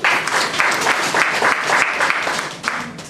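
Audience applause at a 2010 APC UK and Ireland Bristol Chapter launching ceremony, sustained steady clapping from a crowd throughout, fairly close and dense with no speech over it.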